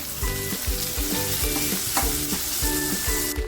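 Masala-stuffed eggplant fries in hot oil in a Maharashtrian-style dish, a loud, close sizzle with bubbling and rhythmic pops running continuously, no talking.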